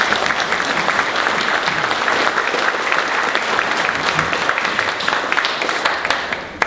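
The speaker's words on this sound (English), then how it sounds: "Big round of applause for Dr." Applause from a business club luncheon audience welcoming a guest speaker, a full even patter of many hands clapping in a room, steady and fairly close, ending with a few last claps.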